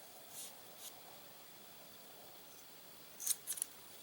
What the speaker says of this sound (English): And now all I need to do is cut this one. So I will cut this one.